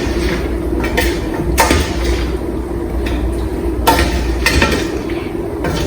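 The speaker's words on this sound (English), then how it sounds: "Just going to give it a stir" Pasta stirred in a hot pan for pasta alla genovese with pesto, heard as several sharp utensil knocks and clacks against the pan at irregular intervals over a steady sizzling hiss, close and loud.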